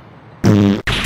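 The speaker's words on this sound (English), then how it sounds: "I can now fart in peace." A loud, close fart lasts nearly half a second, cuts off briefly, then resumes with a shorter burst. No voices accompany it.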